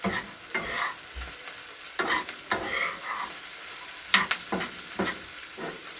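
Chicken and carrot lightly frying in a pressure cooker pot, a steady sizzle with repeated scraping stir strokes at irregular intervals, near and loud, no talking.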